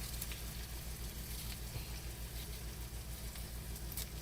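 Chopped onion sizzles in a pan on a gas stove while cooking for a Maharashtrian ghevda (flat bean) vegetable dish, a steady, soft hiss of frying that carries on evenly with no talking.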